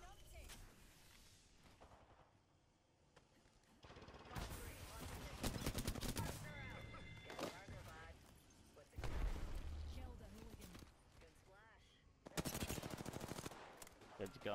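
Sniper fire crackles among heavy gunfire in an Apex Legends battle: dense, loud bursts of shots come in several waves, with near and far reports overlapping and voices talking over them.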